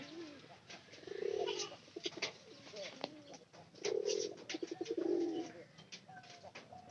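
Pigeons cooing in a loft, several soft throaty coos rising and falling in bursts near and clear, with faint voices in the background.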